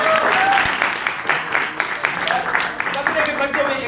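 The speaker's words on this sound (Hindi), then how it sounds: "इनके लिए तालियां बजाइए" Audience applause at an improvised comedy show, scattered claps with distinct sharp hits under a speaking voice, moderately loud and close.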